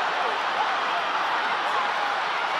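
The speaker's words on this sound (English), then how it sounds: "The crowd urging the drive." A rugby crowd at a women's Six Nations match between Wales and Italy roars steadily throughout, a dense, continuous wall of noise from the stands.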